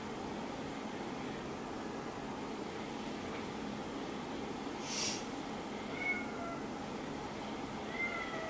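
A house cat meows a few times, faint and intermittent over a steady hum of background noise, with no talking.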